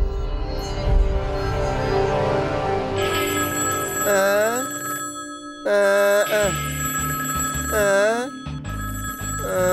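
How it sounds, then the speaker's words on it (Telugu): An electronic phone ringtone plays repeating warbling melodic phrases, loud and close, over a backdrop of sustained tones. "ఫోను తీయనా లేక తీయొద్దా"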